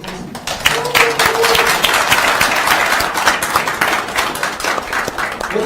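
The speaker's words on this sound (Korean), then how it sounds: "안철수 후보님과 행정수반과 세종시민 대책위 간담회를 뜨거운 박수로 마치도록 하겠습니다." Applause from the room at the close of a candidates' meeting with a Sejong citizens' committee in a city hall conference room, sustained dense clapping with a few voices underneath.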